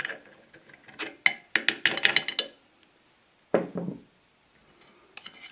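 Metallic clicks and clatter come from a spring clamp being pulled out of a Polaris pull-start recoil spring during repair, in a quick irregular burst of sharp ticks followed by a louder clack and a final faint tap.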